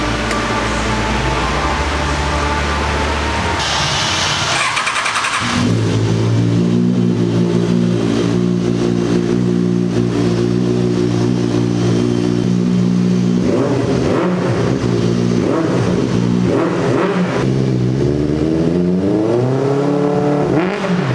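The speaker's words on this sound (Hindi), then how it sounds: "परमिशन ले लिया है कि बाइक का एग्जॉस्ट नोट हम आपको सुनाएंगे" A superbike exhaust revs hard indoors in a detailing showroom, climbing and falling in loud repeated surges, close by and alone.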